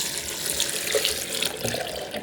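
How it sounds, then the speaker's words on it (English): Three cups of water pour into a Vitamix blender jar with almonds, a steady splashing gush that runs continuously for about two seconds at close range with no talk. "And we'll just add in the 3 cups of water."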